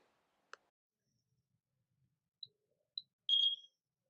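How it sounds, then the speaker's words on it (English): An iCare tonometer gives its error signal, short high electronic beeps that ring out close and clear in a quiet room, with a couple of faint ticks and clicks before them. "When the machine detects these errors, it will make a double beep sound."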